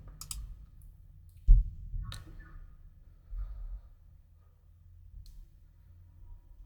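A few quiet, isolated computer mouse clicks on a download button sound against a near-silent background, with one firmer click standing out.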